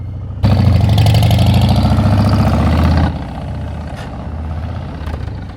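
A Harley-Davidson Softail Heritage Classic 114 engine rumbles loudly with a deep, throaty idle, then the note drops as it pulls away and fades slightly into the distance.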